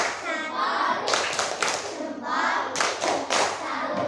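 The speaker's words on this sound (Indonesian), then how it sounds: "Oke, tepuk tangan buat Mbak Dinda." Applause from a classroom group, steady clapping in bursts with a brief lull midway, fairly close, with faint voices underneath.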